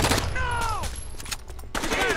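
Dense, rapid gunfire bursts from a Tom Clancy's Rainbow Six Vegas 2 terrorist hunt, loud and close, running nearly the whole time with a brief lull before another volley, while a voice talks underneath.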